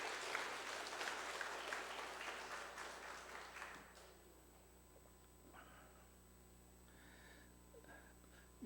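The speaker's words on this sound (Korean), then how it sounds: "박수 한번 할까요?" A Sunday afternoon church congregation claps in thanks for the event volunteers, a dense patter that fades after about four seconds, leaving a quiet room with faint murmurs and small sounds.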